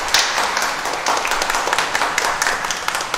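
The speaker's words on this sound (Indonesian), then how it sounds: "Kita beri tepuk tangan sebagai ungkapan terima kasih kita." Applause from a church congregation at a Catholic parish Mass, a steady dense patter of hands clapping that carries on evenly throughout at moderate loudness.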